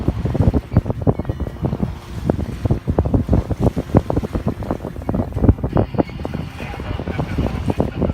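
Gusty wind buffets the microphone while water rushes and slaps against a sailboat's hull as it moves under sail with no engine running, loud and irregular.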